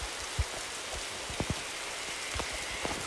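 Rain falls in the video game 99 Nights in the Forest, a soft steady hiss with a few scattered louder drips and knocks, heard alone without talk.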